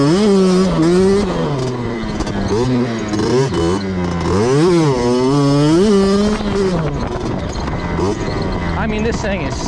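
1999 Kawasaki KX60 dirt bike fitted with V-Force 3 reeds, its two-stroke engine revving up and down with wavering pitch while riding around a yard, loud and close throughout.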